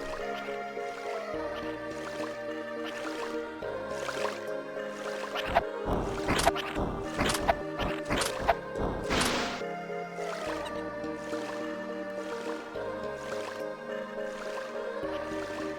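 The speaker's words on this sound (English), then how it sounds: "I hear water." Water in the video game Virtual Hydlide squishes and drips in a cluster of splashy sounds midway, set against a looping game tune with no talking.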